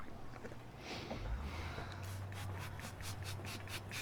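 A freshly sharpened Japanese axe blade shaving skin: faint, close scraping strokes, repeated in a quick steady rhythm over a quiet low hum.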